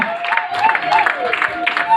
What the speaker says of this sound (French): S'il vous plaît, des acclamations accompagnées de cris de joie.